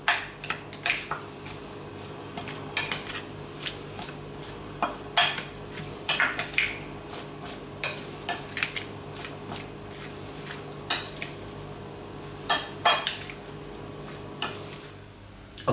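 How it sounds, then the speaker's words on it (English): A coconut shell spoon scrapes and knocks against a pan while stirring Indian-style vegetable fried rice, irregular clatters and taps up close over a quiet background, no talking. "Let me get my spoon and give that a mix."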